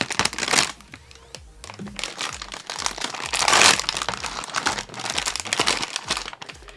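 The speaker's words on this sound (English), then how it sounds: "I'll just take a little knife" Plastic packaging for a Bandai QMSV Mini Strike Freedom figure crinkles and rustles while being cut open with a small knife, with busy, close crackling and scraping for several seconds and one louder tearing burst midway, no speech.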